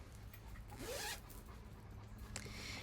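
A zipper on a handmade project bag, fitted with a handmade zipper pull, is drawn along in a quick rasping pull, followed by a second shorter zip near the end, close and fairly quiet.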